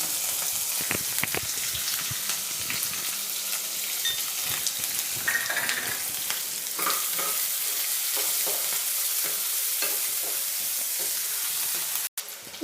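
Chopped onion and curry leaves frying in a pan give a continuous bright sizzle, broken by scraping stir strokes and small pops, before cutting off abruptly near the end.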